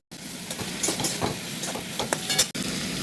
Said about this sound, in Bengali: মশলা বাটা হয়ে গেছে, ছেড়ে দেব এবার ভাজা বেগুনের মধ্যে